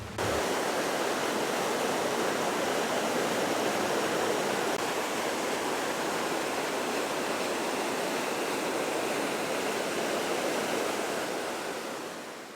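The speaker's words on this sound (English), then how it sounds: "I didn't realize that the creek was so close by." A creek beside the Million Dollar Highway in Colorado rushes steadily and loudly, a dense continuous roar of flowing water with no pauses, fading slightly at the very end.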